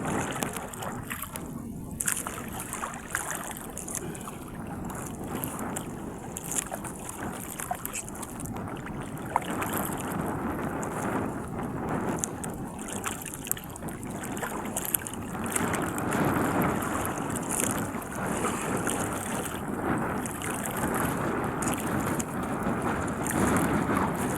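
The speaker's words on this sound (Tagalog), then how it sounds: "hangin dito guys" Wind blows steadily over open water beside a boat, buffeting the microphone in a constant rushing roar with gusts and faint lapping underneath, and a voice speaks briefly.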